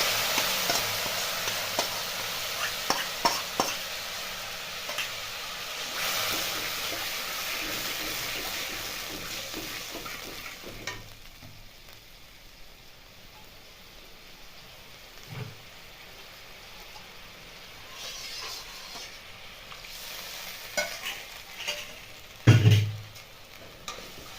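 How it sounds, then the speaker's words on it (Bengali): Spice paste and whisked yogurt for doi begun sauté in a pan with a soft sizzle, scraping stirs and occasional clatters, then a sharp knock near the end, with no voices. "দিয়ে দেবো এখানে ফেটে রাখা দই। এতে সব প্রকার মশলা দিয়েছি, দিয়ে দেবো, দিয়ে ভালো কষিয়ে নেবো"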